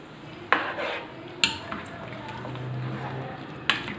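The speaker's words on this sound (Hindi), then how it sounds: "अब इन सब चीज़ों को करते हैं मिक्स" Chicken karahi ingredients with fennel and fenugreek seeds mixed in a pot, soft stirring and low frying under a few sharp spoon knocks against the metal rim.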